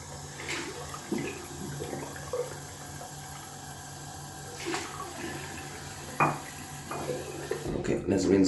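A razor rinsed under running water at a bathroom sink, with steady close trickling, a few clinks of metal against the basin, and a louder splashing burst near the end.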